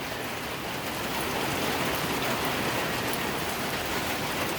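Dense, steady rain from a squall pouring down beside a front porch, a broad continuous hiss of drops hitting surfaces all around, close and unbroken with no talking.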